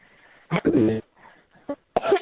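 Several sharp coughs in quick bursts, close and fairly loud, with a short pause between the first cluster and the last.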